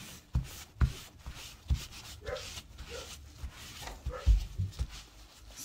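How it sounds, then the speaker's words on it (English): Dogs bark in short, scattered yips somewhere off in the room of a tattoo session, faint and irregular over a low background rustle. "Sorry about the dogs barking."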